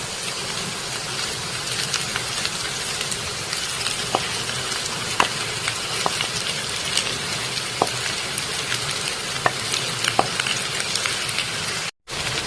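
Onions and mashed potato fry in hot oil in a home kitchen pan, giving a steady close sizzle scattered with small pops and crackles that runs unbroken for the whole stretch. A brief dropout comes near the end, and nobody speaks.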